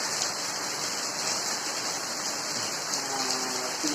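Steady rain falls continuously in an outdoor setting, a soft even hiss that holds at the same level throughout with no talk.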